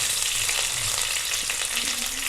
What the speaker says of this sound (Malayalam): കടുക് പൊട്ടി വറ്റൽമുളക് ഇട്ടു, കുറച്ച് കറിവേപ്പിലയും ഇട്ടു.